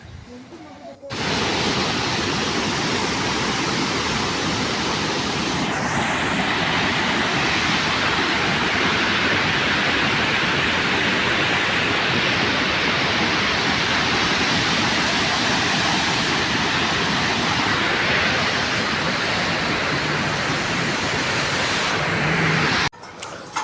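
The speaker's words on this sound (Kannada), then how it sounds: "ನಾಲ್ಕು ಗೇಟ್ ಓಪನ್ ಮಾಡ್ಯಾರ ನೀರು ಹಿಂಗೆ ಹೊಂಟೈತಿ ಫುಲ್ ಗಿಚ್ಚೈತಿ ಒರಿಜಿನಲ್ ಸೌಂಡ್ ಕೇಳ್ಕೊಂಬರ್ರಿ" Powerful, steady roar of rushing water pouring through four open gates of the Malaprabha Dam, loud and continuous for the whole stretch with no voices.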